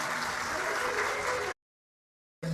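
Loud, dense audience applause welcoming the deities at a Shiv Mahapuran katha, sustained for about a second and a half, then breaking off into silence before a brief return of sound.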